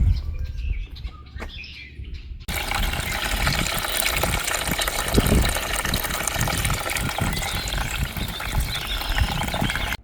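Water gushing from a hose or watering can onto garden plants in Greenstalk vertical planters outdoors, a steady close splash and pour running without pause after a brief stretch of birdsong.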